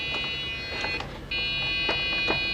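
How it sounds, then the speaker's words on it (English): A Dell Dimension 4600 Pentium 4 tower that has locked up emits a steady high-pitched electronic beep tone, continuous apart from a brief dropout, with faint clicks and handling noise around it. "Now we're getting the beeping noise though."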